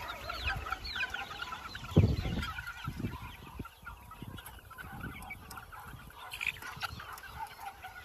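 Chicks and chickens being raised in a yard cluck and peep almost continuously, with a cluster of louder close clucks early on over a steady background of chirping.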